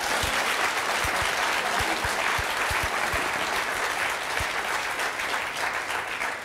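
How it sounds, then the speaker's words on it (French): Studio audience applause on a French television talk show, a steady dense wash of clapping with a few sharper individual claps standing out, sustained loudly throughout. "On peut applaudir Nathalie"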